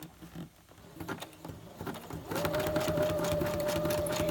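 A sewing machine stitches a zigzag: soft clicks and handling noises at first, then the motor starts up and runs at a steady, loud, even hum with rapid needle chatter until the end.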